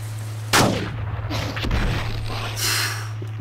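One sharp, loud hunting rifle shot cracks out in the Cabela's Big Game Hunter game, followed by a rolling echo and a softer later thump over a steady low hum.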